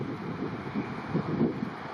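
Strong wind blows and buffets the microphone on an Alberta mountain backpacking trail above a river, a steady, loud rushing roar with gusty swells.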